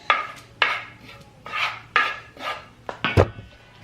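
Egg and milk mixture and apples being mixed together in a bowl for apple pancake batter, with a series of rhythmic scraping and clinking strokes of utensil against dish, fairly close, one sharper knock near the end.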